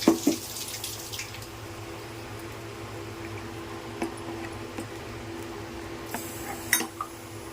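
Two cups of water being poured into a cooking pot in a home kitchen, a soft steady trickle with occasional light clinks of metal vessels, fairly quiet and without talk.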